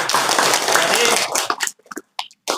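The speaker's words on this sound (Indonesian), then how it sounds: "Baik, tepuk tangan untuk." Students in a classroom burst into loud, dense applause for about a second and a half, then it thins out to a few scattered claps and silence.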